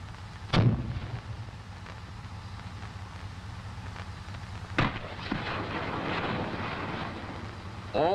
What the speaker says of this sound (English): launchers can be fired one at a time in right or left salvos of 4 or in a full salvo of 8